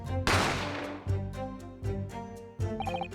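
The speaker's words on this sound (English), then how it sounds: "You heard the gunshot, you mean?" A gunshot from the video game The Great Ace Attorney rings out as a sharp, loud blast with a long decaying tail, followed by several shorter rhythmic musical hits and a brief rising chime near the end.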